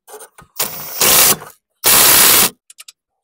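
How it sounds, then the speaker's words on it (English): An impact gun tightens the 22 mm lower control arm bolts on a Toyota Camry during a passenger-side control arm replacement, firing in two loud sustained bursts, with a few faint clicks before and after. "we tighten it with our impact gun"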